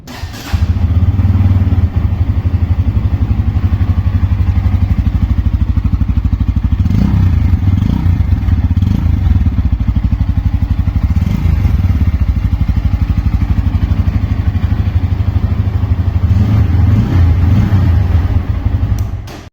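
A 160cc motorcycle engine runs loud and close with a deep, throbbing exhaust note, rising in a few revs before settling back to idle.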